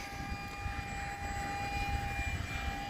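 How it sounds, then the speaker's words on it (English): An E-flite Commander MPD RC plane cruises at half throttle, a steady whining electric motor and propeller drone with a constant high tone, close and even over wind rumble, with no talk. "Down a little bit, right around half throttle. See it just putting along now."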